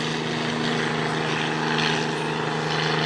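A vintage agricultural aircraft at the Wanaka air show gives a steady, fairly loud propeller-engine drone that holds evenly, with no talk over it.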